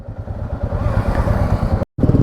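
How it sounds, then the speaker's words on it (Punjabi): Motorcycles ridden on a monsoon road trip from Bathinda to Jaipur in Rajasthan, with a steady, loud engine drone and wind rumble that cuts out briefly near the end before resuming. "ਅਸੀਂ ਖੱਬੇ ਪਾਸੋਂ ਆਪਣੇ ਮੋਟਰਸਾਈਕਲ ਕੱਚੇ ਕਰਦੇ ਹੋਏ ਉਸ ਤੋਂ ਅੱਗੇ ਸੜਕ ਤੇ ਚੜਾ ਹਾਂ"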